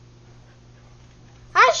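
A dog barks once in the Minecraft Dogcraft mod video game, a short bright bark coming abruptly at the end after a quiet stretch of low hum.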